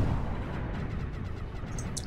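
Explosions from artillery unit shots in a real-time strategy game, part of a 2v2 tournament, give a continuous rumbling barrage of booms with a few brighter pops near the end.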